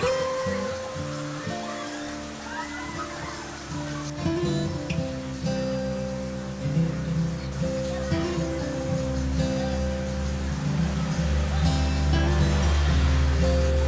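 Continuous broadband rush of a mountain waterfall swollen by monsoon rain, steady throughout and partly covered by louder tonal music.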